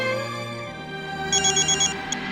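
A phone rings with an incoming call, its electronic ringtone chirping in a quick series of bright bursts over a steady background tone, close by with no talking.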